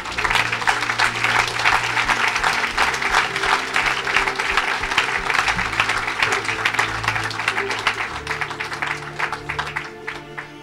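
Congregation applauding the Lord during a lively church worship service, steady sustained clapping from many hands throughout, with voices and music faintly underneath.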